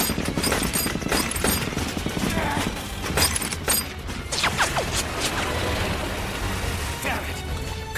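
A gunfire volley in an anime battle scene: rapid cracks and shattering bursts crowd together over a dense rumble, loud and close, with shouted voices mixed in.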